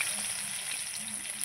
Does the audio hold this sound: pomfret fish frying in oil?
yes